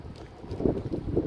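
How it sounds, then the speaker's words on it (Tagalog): Strong, cold winter wind at Pier-2 in Kaohsiung, Taiwan, rushing and buffeting a microphone in gusty bursts, loud and close. "So, sobrang hangin, sobrang lamig."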